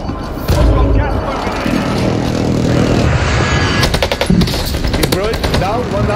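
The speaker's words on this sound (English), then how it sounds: "Be advised, friendly precision airstrike" Video game combat with a friendly precision airstrike, loud continuous rattling gunfire and explosions dense throughout, with a burst of rapid shots near the end and voices talking over it.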